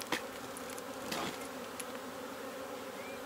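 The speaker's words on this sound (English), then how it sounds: "when there's bees flying everywhere" Honeybees buzz around an open beehive during queen-rearing work, a continuous close drone with individual bees zipping past the ear now and then, and no voices.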